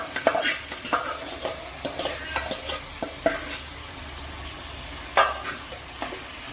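Mashed gongura leaves and raw prawns being stirred and fried in a pan, with a steady low sizzle broken by repeated scraping strokes of a spoon against the metal.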